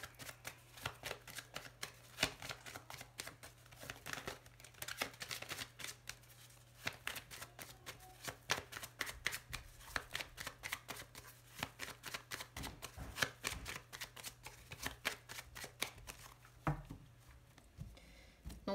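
Lenormand cards being shuffled by hand, a long run of quiet, rapid riffling flutters in irregular bursts, close and soft, with no talk.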